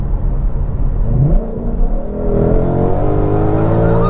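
A Ford Shelby Mustang, either a GT350R or a GT500, pulls hard under heavy acceleration, its engine note climbing steadily and staying loud and close from start to finish with no talk over it.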